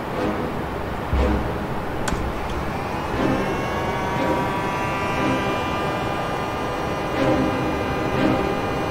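A recording of a flying drone plays back: a steady, droning motor whine with rising, slowly shifting pitch under a broad rushing noise, continuous and fairly loud throughout.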